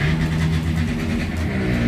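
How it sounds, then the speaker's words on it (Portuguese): A motorcycle passes on a street on a Saturday afternoon, a loud, continuous engine drone that stays close for its whole length with no talk. "A moto passa."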